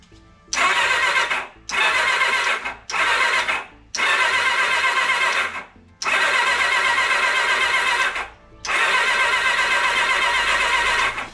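A 1989 Kawasaki ZXR750 H1 motorcycle that had been running rich is cranked over in six separate attempts, each a loud, sustained starter-and-engine whir with short silences between.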